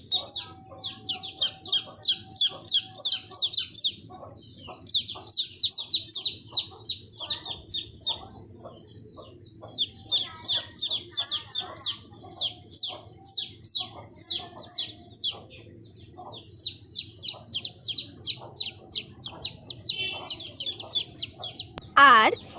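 A hen and her chick cluck and peep in quick, repeated bursts, with short pauses between runs, under a voice speaking throughout.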